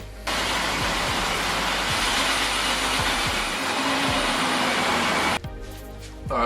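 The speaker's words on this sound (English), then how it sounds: "So, time for the hole saw, and then we should be able to throw the handle together." A hole saw bores through a door for the handle, a loud, continuous grinding whir with faint periodic ticks. It cuts off abruptly near the end, leaving a quieter mechanical tail.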